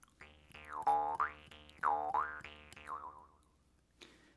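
A jaw harp twangs close up, its buzzing drone bending in repeated wah-like sweeps with rhythmic plucks, fading out near the end before a short final click.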